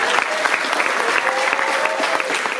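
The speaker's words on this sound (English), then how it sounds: "molim se aplauz za njih." Loud, close applause from an audience at a film festival awards ceremony: dense, steady clapping that fills the whole stretch with no pause.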